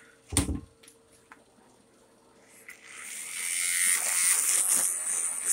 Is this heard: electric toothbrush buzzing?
yes